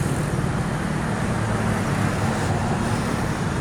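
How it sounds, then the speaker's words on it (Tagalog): Road traffic on Quirino Highway between Fairview and Novaliches makes a steady, moderate roar of passing vehicles. It is a continuous wash of engine and tire noise with no talking. "Ito na yung Quirino Highway from Fairview to Novaliches Bayan"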